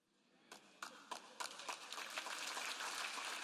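Applause from a church congregation starts with a few scattered claps, then builds into dense, steady clapping that fills the room and keeps growing louder.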